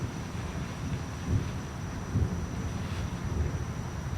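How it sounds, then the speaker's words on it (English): Low thunder rumbles faintly in the distance during an outdoor summer bonsai session, a soft continuous roll with a few slightly stronger swells, under steady wind and rain-like hiss. "Oh, I just heard some thunder."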